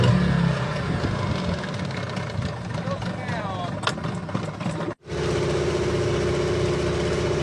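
A speedboat engine runs steadily with a droning, idling hum under loud voices and splashing, briefly cutting out before resuming at a constant level.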